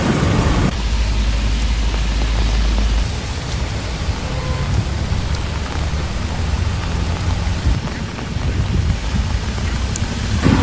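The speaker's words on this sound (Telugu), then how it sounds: "ఢిల్లీతో పాటు గురుగ్రామ్ నోయిడా ఘాజియాబాద్లో భారీ వర్షాలు పడుతున్నాయి" Steady, heavy rain pours down on Delhi in a dense continuous roar, with a low rumble underneath and no voices.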